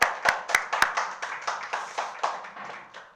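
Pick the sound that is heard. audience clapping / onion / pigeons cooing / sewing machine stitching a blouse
audience clapping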